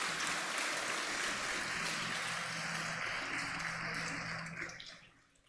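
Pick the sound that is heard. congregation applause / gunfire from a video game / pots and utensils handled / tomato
congregation applause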